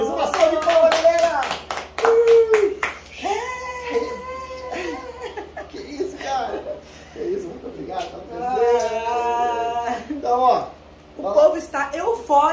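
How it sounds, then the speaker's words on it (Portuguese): Hands clap in a quick, dense burst during a live bolero dance class, with excited voices shouting and whooping over it before the clapping thins out under continued lively talk. "Uma salva de palmas, galera!"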